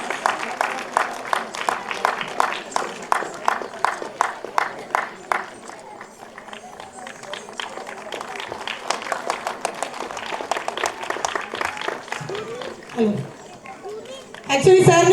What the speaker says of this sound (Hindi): So please audience, for this moment they require a big round of applause.